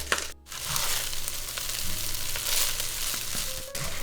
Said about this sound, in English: Now we'll add our ginger, garlic, and then our scallion whites.